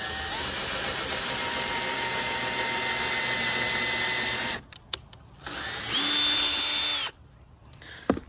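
A power drill boring pocket holes in wood with a Kreg jig, a loud steady high whir for several seconds, then a pause and a second shorter burst before winding down.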